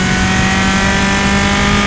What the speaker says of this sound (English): The revs drop, that's not them lifting.